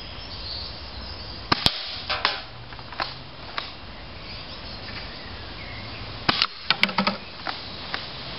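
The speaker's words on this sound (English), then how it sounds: "Now we are gonna do a shooting test." A DE M56 airsoft multi-shot shotgun fired during a shooting test: sharp cracks and pops with mechanical clacks of the pump, in two short bursts separated by a pause, over steady outdoor insect noise.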